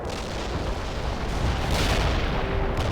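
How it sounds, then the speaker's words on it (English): Artillery strike in the World in Conflict video game: continuous rumbling barrage of booming blasts, loud and sustained throughout with no voices. "Artillery strike"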